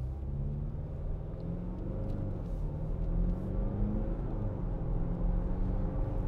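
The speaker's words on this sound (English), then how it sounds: "Nice smooth gear change." Interior of a 2018 Jaguar F-Pace 2.0d R Sport automatic AWD under way, a steady low diesel drone and road rumble with engine pitch shifting slightly through a smooth gear change.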